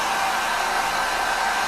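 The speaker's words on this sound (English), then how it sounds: "I just take my hair dryer" A hair dryer blows steadily at close range, a constant loud whooshing roar with no pauses.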